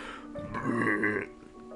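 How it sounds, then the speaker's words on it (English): A single drawn-out burp, close and moderately loud, rises in a gurgling swell for about a second and then trails off into quiet, with no speech around it. "And that's why we burped for Body Blazers"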